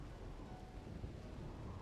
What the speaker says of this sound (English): Game sound is not liking this thunder.